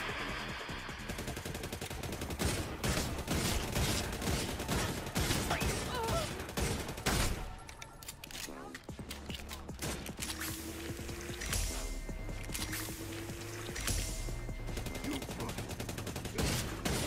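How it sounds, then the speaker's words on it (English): Rapid bursts of gunfire from the Redfall video game, including a flare gun, crack repeatedly and densely throughout amid continuous game effects and clatter. "Fun flare gun."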